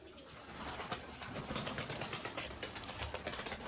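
Soft, repeated cooing of crested pigeons with rustling and faint flutters, close and steady, no one speaking.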